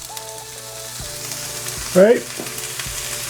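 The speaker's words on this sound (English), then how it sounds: "So we're going with a little bit of avocado oil and then down with our onions." Onions hitting hot avocado oil with salt in a pan, a loud burst of sizzling near the middle over a background of steady musical tones, with a brief spoken word.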